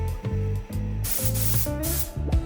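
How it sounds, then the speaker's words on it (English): Short, loud hissing blasts from an air duster in a workshop making custom guitar pickguards. They come in quick, uneven bursts over a tonal electronic background. "That sound is our air duster"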